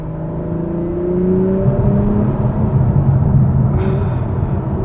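An Acura TLX Type S in Sport Plus mode pulls hard, its engine note climbing steadily in pitch through a smooth gear change over a constant road rumble, close and loud, with no talking.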